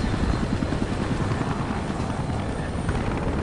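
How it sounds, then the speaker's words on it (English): Helicopter in the video game Battlefield Play4Free, a loud, close, continuous rotor thump and engine roar that holds steady throughout without talk. "let's go on helicopter"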